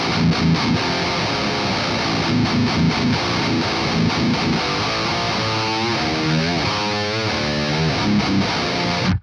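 A heavily distorted seven-string electric guitar, through a Kemper profile of an EVH 5150III 50-watt amp, chugs out a low, chunky rhythm riff with tight palm-muted strokes, loud and continuous.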